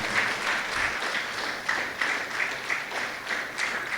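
Steady applause from a conference audience, a dense and even wash of many hands clapping that holds at the same loud level without a break.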